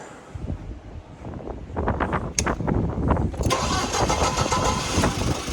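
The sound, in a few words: combine engine starting up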